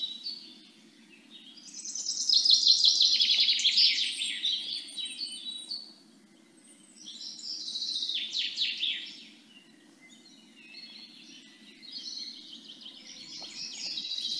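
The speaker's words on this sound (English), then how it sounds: "So I'm going to give us a little bird song" Recorded birdsong played back during an online webinar: bright chirps and warbling phrases come in several bursts with quiet gaps between them, over a faint low hum.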